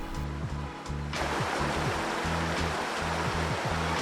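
A waterfall and flowing stream on a rocky mountain hike in Scotland's Beinn Eighe, heard as a loud, constant rushing roar that swells in after a quieter first second and holds steady, with a low humming tone underneath.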